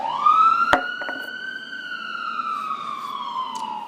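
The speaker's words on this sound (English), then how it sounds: "Excuse the ambulance." An ambulance siren wails outside, a single long rising then slowly falling tone that sweeps past, loud and clear over a quiet room, with one sharp knock early on and no talking.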